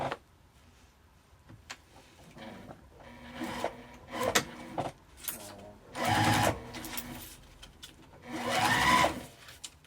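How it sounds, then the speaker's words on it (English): A sewing machine stitches a zipper on a makeup bag in several bursts of rapid mechanical whirring, close and fairly loud, separated by pauses with handling noises and quiet talking. "now I'm just going to stitch straight down here on the other"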